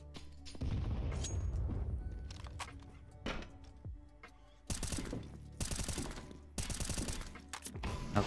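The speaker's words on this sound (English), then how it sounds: "You're jump shooting with an M4" M4 rifle fire in CS:GO while the player jumps, several quick bursts of loud, sharp shots separated by short gaps, with footsteps and thuds between them.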